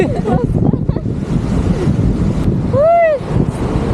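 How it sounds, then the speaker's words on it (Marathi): Steady roar of sea waves washing onto Dahanu beach, mixed with wind buffeting the microphone; a brief rising-falling whistle-like tone cuts through near the end. "लाटा बघा, लाटा."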